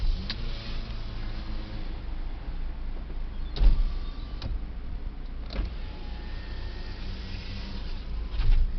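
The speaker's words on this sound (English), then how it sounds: "All-round electric windows." Electric windows on a Subaru XV e-BOXER 2.0i SE Premium Lineartronic run with a steady motor whir inside the cabin, broken by a few brief clicks and thuds, with no talking.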